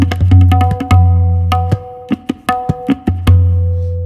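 Tabla mukra filler from ghazal accompaniment, resonant bass strokes ringing low under sharp treble taps in an uneven, syncopated burst of strikes, close and solo with no voices.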